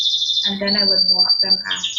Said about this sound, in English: I can hear your birds chirping away